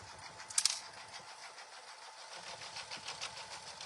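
A home embroidery machine stitches at slow speed, its needle tapping out a soft, steady mechanical rhythm. It stays quiet and fairly distant throughout, with one brief sharper clatter near the start.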